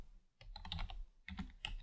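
Typing on a computer keyboard, two quick bursts of close, crisp key clicks separated by a brief pause, quiet and alone.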